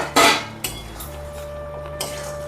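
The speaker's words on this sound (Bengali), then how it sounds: "এরপর ঢাকনাটা খুলে দেখি এটা আমার হয়েছে কিনা" A metal lid comes off a cooking pot of simmering vegetable curry with a sharp clank near the start, then lighter metallic clinks follow, close by over a faint low hum, with no voices.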